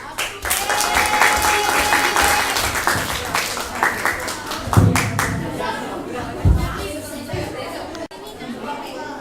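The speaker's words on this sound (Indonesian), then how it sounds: "Ya, beri aplaus." Classroom applause after a biology lesson on mosses, a crowd of students clapping steadily through most of the clip with chatter and voices mixed in, near and fairly loud.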